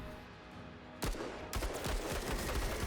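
Gunfire from the tactical video game Menace, a sudden burst of shots starting about a second in, then repeated overlapping cracks and thuds continuing loudly to the end with no talking.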